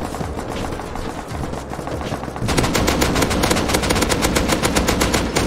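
An M2 heavy machine gun hammers in the survival game Rust, first as a muffled distant rattle, then as a loud, rapid, sustained burst of close gunfire.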